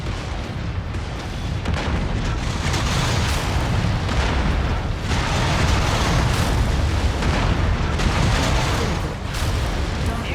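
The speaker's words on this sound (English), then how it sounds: "The AC-10 also has a very quick rate of fire. Like it's got a great rhythm to its shots." AC-10 autocannon firing in MechWarrior 5: Mercenaries, heavy booming shots blending into a dense rumbling barrage that stays loud and continuous throughout.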